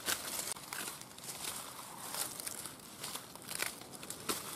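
Pruning scissors snip through dry stems of aromatic garden shrubs, producing close, irregular crackly cuts and rustles with no voices.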